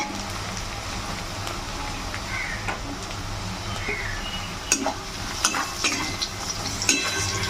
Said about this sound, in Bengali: এর মধ্যে এবার রসুন থেতো করা রসুনগুলো দিয়ে দিচ্ছি